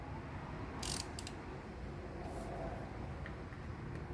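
A ratchet tightening the primary cover bolts on a 2009 Harley-Davidson Forty-Eight 1200 XL Sportster in a crisscross pattern: a few short bursts of quick metallic clicking, moderately close, over a steady background hiss.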